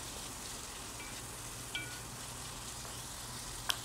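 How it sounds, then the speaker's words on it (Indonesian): Chicken thigh meat sautés in a pan with a steady, even sizzle, moderately close, broken by a couple of small clicks and with no one speaking. "Kita tumis hingga matang juga daging ayamnya"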